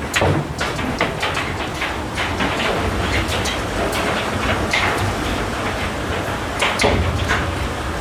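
A car shuttle train bound for Goppenstein, Switzerland, carrying a bus, runs on its rails with a steady close rumble and scattered clanks and rattles throughout.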